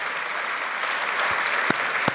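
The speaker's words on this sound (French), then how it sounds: "Ah, il en voulait plus, des applaudissements." Applause from an audience at a film masterclass runs as a dense, even roar of clapping, with a few louder, sharper claps standing out near the end.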